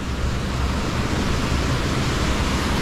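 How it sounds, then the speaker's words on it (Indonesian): Lembah Anai waterfall in Tanah Datar, West Sumatra, roaring as a loud, steady broadband rush of falling water that fills the whole stretch without a break. "Yuk kita mendekat ke air terjun Lembah Anai."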